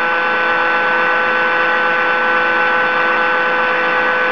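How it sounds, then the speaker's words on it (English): A Minipack MVS 31 chamber sealer's vacuum pump runs in a steady, loud electric hum with a constant buzzing drone, unbroken and alone throughout. "it's going to continue to run the vacuum pump for the maximum duration of 30 seconds to really pull that air out"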